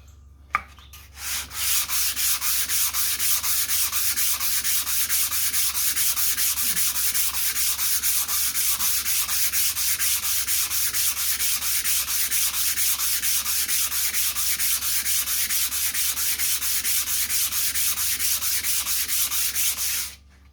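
A vintage knife sharpening stone is rubbed back and forth on sandpaper to flatten it, giving a loud, continuous, rapid rasping scrape at a steady rhythm for nearly the whole clip, close up with no talking.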